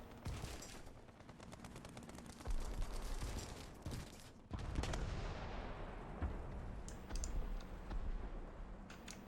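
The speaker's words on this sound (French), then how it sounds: "Nico qui a pris un gros shoot dans la tourelle" Tank cannon fire in a competitive tank video game match, with rapid bursts of sharp blasts and a booming rumble, loud and dense, with no talking.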